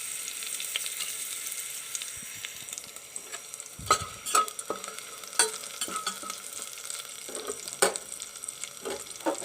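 Whole cloves, cinnamon and cardamom frying in a pan for a prawn dum biryani, giving a soft steady sizzle with a few sharp clicks and stirring knocks. No one speaks.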